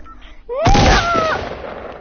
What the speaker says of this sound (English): So much bullets coming through